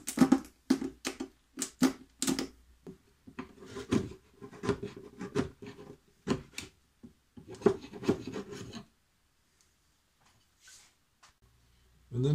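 Rapid, rasping back-and-forth strokes of a saw cutting a section out of a wooden dowel, in bursts, then stopping into near silence.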